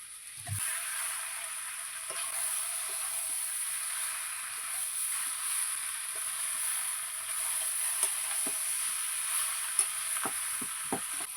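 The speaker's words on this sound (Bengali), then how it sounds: "আমার মাংসটা তিরিশ মিনিটের মতন কষানো হয়ে গিয়েছে এবার আমি আলুটা দিয়ে দেবো" Potatoes go into a meat curry that has been sautéing for about thirty minutes, giving a soft steady sizzle with scattered light clicks and taps of a spoon stirring in the pan.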